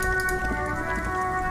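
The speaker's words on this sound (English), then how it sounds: "Stuck in the rain in a traffic jam, man." Steady rain falls in the video game Disco Elysium, a continuous hiss of drops on surfaces beneath low tonal ambient music, with no speech.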